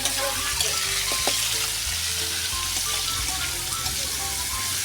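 Chopsuey ingredients sautéing in a hot pan, a steady close sizzle with crackling pops and occasional stirring clatter.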